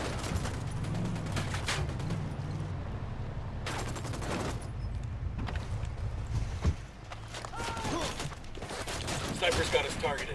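Bursts of automatic gunfire in a Ghost Recon Wildlands firefight against cartel and Unidad forces, scattered volleys near and far across several seconds, with squad voices talking over the shooting.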